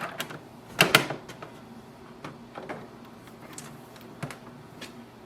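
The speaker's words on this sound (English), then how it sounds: "So once the printer starts, it takes some time and it will automatically go into the setup mode." An HP LaserJet Tank 2502dw printer starts up with a burst of mechanical clatter and whirring near the start, then scattered softer clicks and shifts of internal parts, close and moderately quiet.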